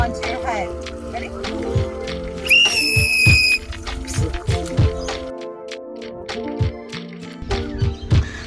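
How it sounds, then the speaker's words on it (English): A sea-kayaking safety whistle, the Fox 40 Sonic Blast, is blown while water is poured over the head. One short, shrill pealing blast rises above splashing and thumping, and people talk around it. "We are testing how the storm reacts to being blown while water is being poured onto your head."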